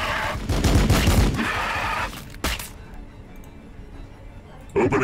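Gunfire in the Warhammer 40k Battle Sector strategy game with Blood Angels units comes as a loud rattling burst, then a single sharp crack and a later short burst over quieter background.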